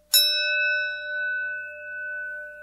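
An old Simplex school bell struck once with a metal triangle beater rings out clearly, its tone sustaining and slowly fading over a couple of seconds.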